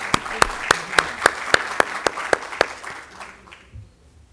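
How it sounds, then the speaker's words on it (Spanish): Slow, spaced rhythmic claps ring out sharply about every quarter second as an audience welcomes a doctor to speak, fading into quiet murmurs at the end. "vamos a recibir al doctor con un fuerte aplauso"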